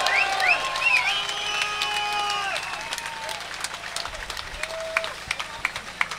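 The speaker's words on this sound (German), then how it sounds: "Applaus" Crowd at an outdoor cannabis rally outside the Bundesrat claps and cheers in scattered bursts, mixed with shouts and whistles, the applause thinning toward the end.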